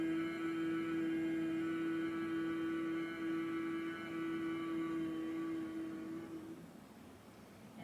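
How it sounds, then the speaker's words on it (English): A steady, closed-mouth hum held on one low pitch for about six seconds, close and even, then fading out. "we are going to hum with our lips closed, kind of opening the back of the throat and humming on the exhale"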